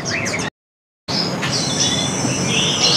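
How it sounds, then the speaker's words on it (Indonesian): A bush lark sings in thin, high warbling phrases against steady outdoor background noise, broken by a brief moment of silence near the start. "beranjangan yang sebelah sini lagi berbunyi"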